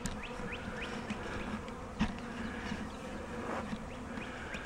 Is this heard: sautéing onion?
no